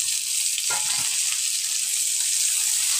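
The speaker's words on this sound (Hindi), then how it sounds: "इसको भी अच्छे से भूज लेंगे लाल होने तक" Chopped small onion and garlic fry in a pan for a spinach sabzi, giving a loud, steady hiss of sizzling oil with a brief stirring scrape near the start.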